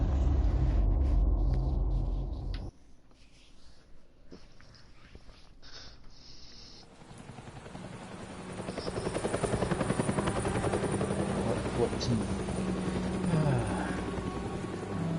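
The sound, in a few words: helicopter in a video game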